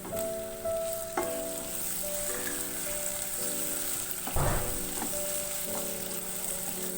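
Onions and tomatoes fry in a pan for aloo bharta, a steady close sizzle with a brief scrape of stirring partway through.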